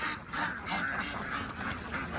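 A flock of Belgian ducks by a riverbank quacks in quick repeated bursts, fairly close, their calls overlapping in a steady chatter.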